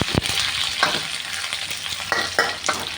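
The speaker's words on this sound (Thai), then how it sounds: "ก็ผัด ง่ายๆ" Bean sprouts are stir-fried in a pan with a steady close sizzle, punctuated by sharp scrapes and clinks of the spatula tossing them.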